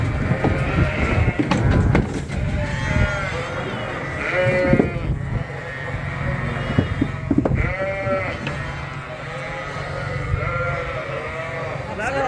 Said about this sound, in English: Off come the ewes into their new pen.